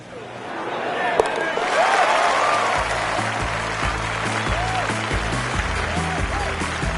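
Applause from a virtual crowd in a PS4 golf game rises and holds steady after a shot, with commentary voices speaking over it.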